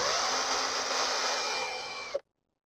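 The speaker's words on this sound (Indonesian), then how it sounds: "saya pakai bor untuk membuat bentuknya" A power drill whirs steadily at high speed boring through a stick to make a fishing float, close and fairly loud, then cuts off abruptly with a brief clunk, followed by silence.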